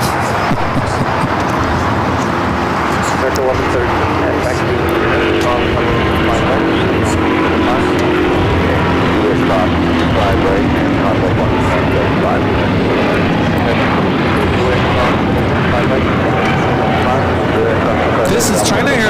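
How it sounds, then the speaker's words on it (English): A China Airlines Airbus A350-900 takes off at LAX, a loud, steady jet roar that swells and rumbles continuously throughout, heard from nearby outdoors. "This is China Airlines Flight 5 taking off to Taipei on the A350 900"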